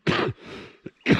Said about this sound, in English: oh, I'm so sorry about this cough.